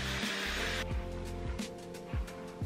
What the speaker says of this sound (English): flip my head over and blow dry the roots of my hair